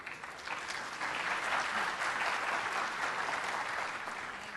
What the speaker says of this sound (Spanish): Un aplauso para Julia.